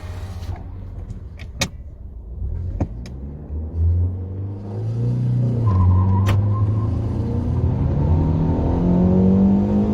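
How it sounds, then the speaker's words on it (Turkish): A Fiat Panda 1.2 Pop LPG engine revs up hard after a few clicks and thumps in a 0–100 acceleration test, climbing through gears with a loud, rising roar that holds near the end. "burada bir sıfır yüz denemesi yapalım."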